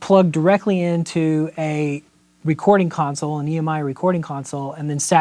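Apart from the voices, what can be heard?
No everyday noises stand out.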